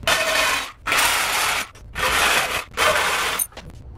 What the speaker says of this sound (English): last thing to do is to cut the all thread from the top